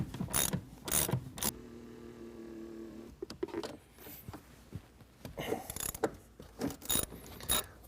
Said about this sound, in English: if you've got a 13mm deep socket, it's going to work a whole lot better